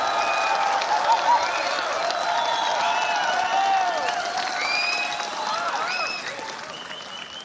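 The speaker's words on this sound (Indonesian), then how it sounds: "Saya harapkan berikan aplaus, tepuk tangan yang semeriah-meriahnya kepada Prabowo Subianto." An audience at the NasDem party congress breaks into loud, sustained applause with scattered cheers and whistles, a dense wall of clapping that eases slightly near the end.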